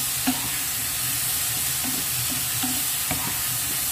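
Mushrooms stir-frying in a pan with a constant close sizzle and occasional soft scrapes of stirring, loud and steady without any voices.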